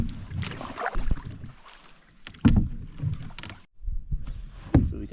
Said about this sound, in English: Actually, this is our first time doing canoeing.